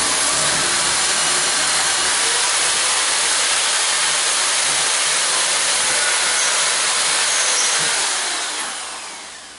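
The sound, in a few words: electric drill drilling a hole in wood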